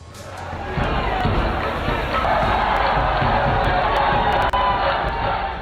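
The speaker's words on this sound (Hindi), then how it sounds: "तेज संगीत पर झूमती भीड़ और शाम में मिलन समारोह" A dense crowd celebrating Holi, continuous loud cheering and shouting with music somewhere in the mix, close and sustained throughout.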